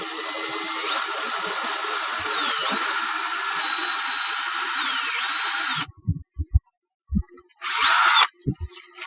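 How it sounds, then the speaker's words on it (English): A power drill whines steadily for about six seconds with slight dips in pitch as it bites into a wooden stud, drilling a pilot hole, then stops, followed by a few clunks and a short burst. "I'm going to try to drill right into the stud."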